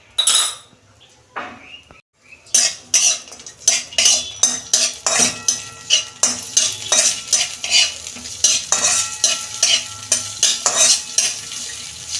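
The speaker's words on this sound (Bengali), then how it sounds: "কড়ায় আমি ঘি দিচ্ছি কাজু কিশমিশটা ভেজে নিচ্ছি" Cashews and raisins sizzle in hot ghee in a wok while a spoon scrapes and clinks against the metal, stirring in a quick steady rhythm.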